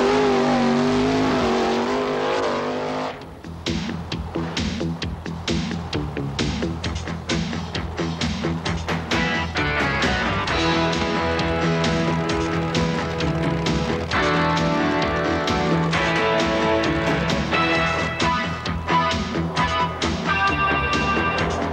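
A 13,800-pound monster truck with a 454 cubic inch Chevrolet engine races, its loud engine roaring and revving almost without break after a brief opening, with no talk over it.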